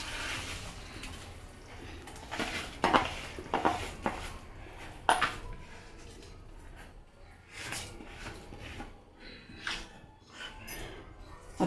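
Soaked rice tipped into a simmering pot of soya chunk pulao masala in a home kitchen, with scattered clinks and scrapes of utensils against the pot, moderately close, no talking.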